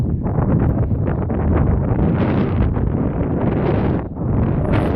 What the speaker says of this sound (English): The wind is washing up the side.